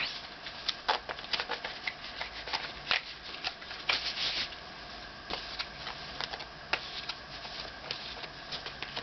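Tarot cards are shuffled close by in rapid bursts of papery riffling and light clicking taps, continuing steadily with brief pauses and no voices.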